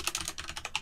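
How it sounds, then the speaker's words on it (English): Someone types on a computer keyboard: a quick, quiet run of close key clicks in a short burst. "So if I type in"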